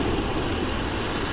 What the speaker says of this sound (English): Definitely hearing air start.